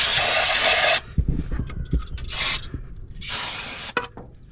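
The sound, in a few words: spraying lubricant into holes on an old Ford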